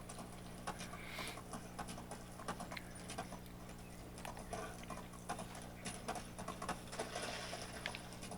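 Hooves of a ridden horse clip-clop steadily in Medieval Dynasty, a faint, quick patter of light taps over a quiet, humming outdoor game ambience.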